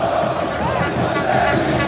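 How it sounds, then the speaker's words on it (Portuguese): A football stadium crowd at a Libertadores match between Nacional and Corinthians sings and celebrates in a dense, continuous roar of massed voices, loud and sustained throughout. "Torcida não para de cantar, está em festa."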